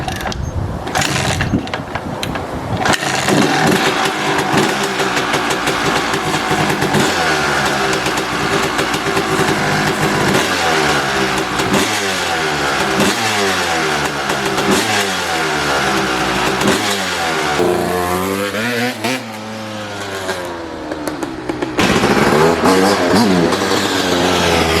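Two diesel trucks starting up and revving, their engines surging through repeated rising and falling revs over a steady idle, loud and close throughout.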